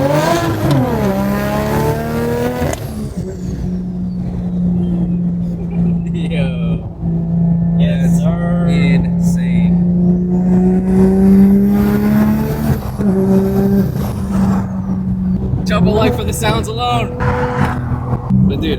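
Cabin view of a single-turbo BMW F80 under way: a steady loud engine drone with rising revs and shifts, heavy turbo and exhaust noise throughout, with occupants' voices and brief whoops over it.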